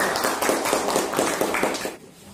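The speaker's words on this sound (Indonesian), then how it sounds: "Oke, tepuk tangan untuk kelompok." Classroom applause for a student group, a brief burst of many hands clapping in a fast patter that fades out abruptly near the end.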